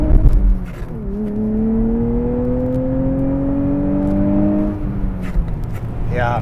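A 2023 Nissan Z Performance with a manual gearbox accelerates hard from a stop on a wet road, the engine note climbing steadily for several seconds before a shift. It is close and loud, with some voices around it.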